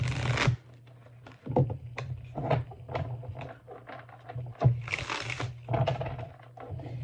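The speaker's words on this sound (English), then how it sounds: "This deck hasn't been worked with that much, so it's still pretty stiff. So bear with me as I try to shuffle." A stiff, barely used tarot deck is shuffled in several bursts of riffling and card handling, with a steady low hum under it and no speech.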